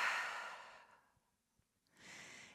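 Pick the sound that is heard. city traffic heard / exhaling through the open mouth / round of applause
exhaling through the open mouth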